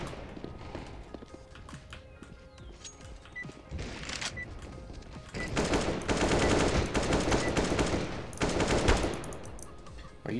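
AK rifle gunfire in the video game CS:GO, with short taps and longer automatic bursts of sharp, loud shots, denser and heavier toward the end, over faint background game sound and no clear talking.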